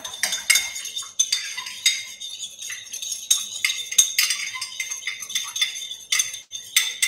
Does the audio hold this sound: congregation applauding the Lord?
no